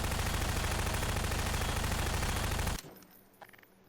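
Rapid, dense gunfire in Garry's Mod pours into a ragdoll as a loud continuous burst, then cuts off abruptly, leaving a faint low ambience.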